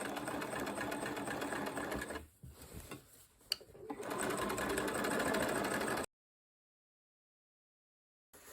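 A sewing machine stitches along the edge of a dress pocket in steady mechanical bursts, pausing briefly midway before running on, then cutting off into silence near the end.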